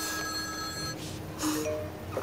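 A telephone rings with steady electronic tones for about a second, followed by a few softer beeps and faint background noise; no one speaks.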